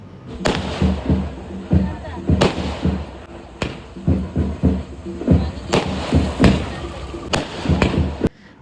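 Firecrackers set off before a village festival procession burst in a loud, irregular series of sharp cracks and thumps, some close together, with background voices between.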